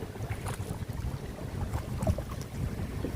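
Wind gusts steadily past a kayak at sea off a coastal rock formation, a continuous rushing buffet that stays close to the microphone with faint water movement underneath.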